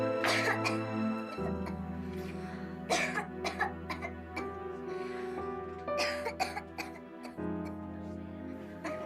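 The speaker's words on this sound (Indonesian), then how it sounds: "Batuk-batuk terus, mana panas lagi." A person coughing repeatedly indoors, a series of close, harsh coughs and throat clearing with brief pauses between bursts.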